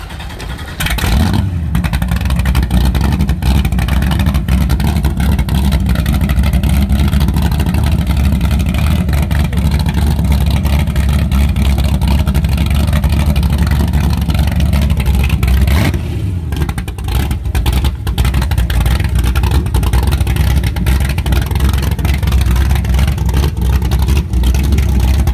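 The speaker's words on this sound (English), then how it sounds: "we took out the Eliminator, Daytona Eliminator 33, with the twin 540 big blocks in it" A Daytona Eliminator 33 powerboat with twin 540 big-block engines roars continuously at high speed, a loud, close, deep engine drone mixed with wind and water rush that dips briefly before surging on.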